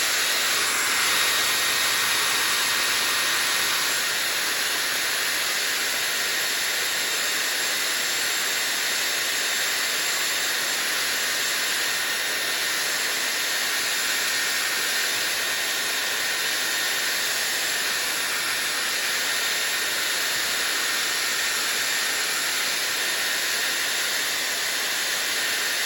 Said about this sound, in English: Okay, hairdryer.